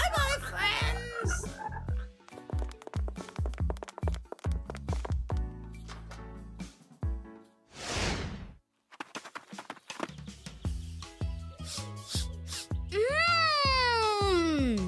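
Cartoon frogs croak in a busy, rhythmic chorus of short, loud calls, then a rising, warbling croak near the end, with a brief swishing pause in the middle.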